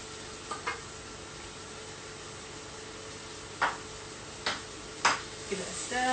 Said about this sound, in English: I think I'm ready to put in my garlic now.